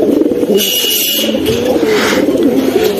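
A pair of pigeons, a cock and a hen, coo loudly and close by in continuous rolling, throaty phrases.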